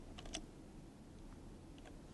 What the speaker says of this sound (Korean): 키보드에 딜리트 버튼을 누르시면